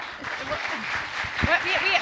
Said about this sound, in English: One more round of applause for Doug.